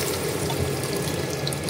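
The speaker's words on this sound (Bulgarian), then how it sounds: "Доливаме малко вода" Water poured into a pot of frying onions, a steady splashing rush with sizzling texture filling the whole moment, close and fairly loud, with no talk.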